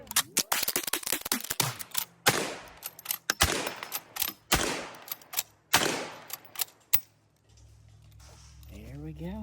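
.45 Long Colt revolver shots crack at an outdoor shooting range, a series of loud, sharp reports spaced unevenly with some quicker pairs, then a quieter stretch, with people talking between shots.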